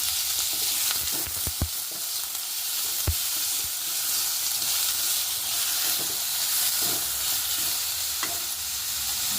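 Tomato and onion fry in a pan with a steady, loud hiss, while a spoon stirs them with repeated scrapes and knocks, a few sharp clacks standing out.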